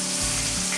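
Sliced onion half-rings hit a hot pan and sizzle loudly up close in a brief, steady hiss of frying.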